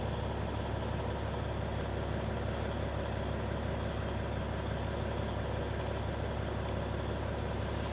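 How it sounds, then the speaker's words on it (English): A Krystal K100 cabover truck engine idles low at about 500 rpm, a quiet, even rumble that holds steady throughout. "You start it up and it idles at about 500, and then after a couple of minutes it bumps it up"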